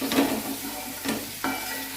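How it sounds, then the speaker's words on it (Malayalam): Spoon scraping and stirring pickle in a hot pan, with a soft sizzle underneath and a few sharper clinks of utensil against metal. "ഇത് നന്നായിട്ടൊന്ന് മിക്സ് ചെയ്യുക"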